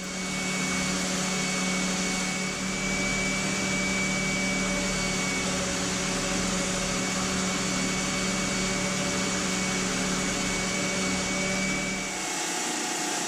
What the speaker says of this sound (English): I can now head over to my oscillating spindle sander to clean up the outside and the inside rings.